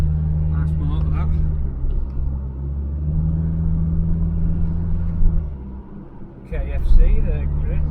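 A steady, deep engine rumble rolls on as an Interceptor car drives past, the tone dipping and swelling before it fades, with people talking nearby.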